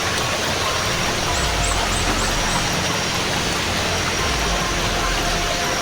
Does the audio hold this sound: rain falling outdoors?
yes